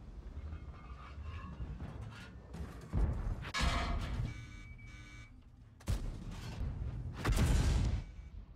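Tank cannon shots ring out in a World of Tanks-style battle, with sharp booming blasts near the 3, 6 and 7 second marks over rumbling engine and track noise, moderately loud with no talk.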